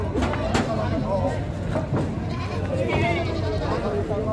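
Goats bleat several times at a busy livestock market, amid a steady crowd murmur and voices talking nearby.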